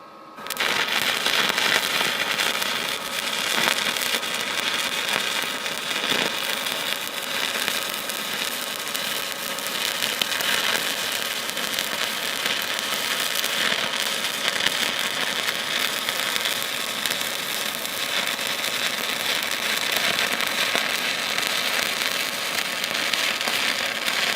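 Arc welding steel C-channel with a Lincoln Electric MP 140 welder produces a continuous, loud, close crackling sizzle with dense popping spatter, sustained without a break throughout.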